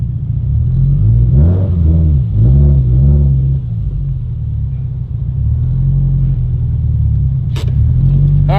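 An 1100hp Subaru drag car idles with a deep rumble and is revved in several quick rising bursts on the two-step, loud and close, followed by a sharp high whine near the end.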